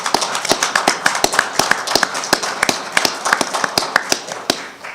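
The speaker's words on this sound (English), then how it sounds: "want to have a round of applause for Linda Reimers" Applause for a retiring staff member with seven years of service at a school board meeting, a dense run of quick claps from a modest group of attendees, steady for several seconds then thinning out at the end.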